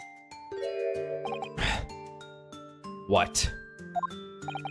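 Bells ringing in London in The Great Ace Attorney Adventures video game: bright, sustained chiming tones, with a few louder strikes partway through and a voice speaking briefly over them.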